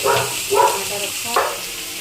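Pumpkin (sitaphal) sautéing in hot oil with fenugreek seeds in a kadhai, a steady broadband sizzle with a few louder bursts as pieces are stirred, close and continuous with no talk.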